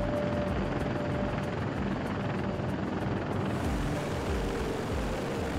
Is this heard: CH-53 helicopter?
yes